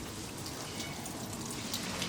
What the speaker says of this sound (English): it has been raining all day.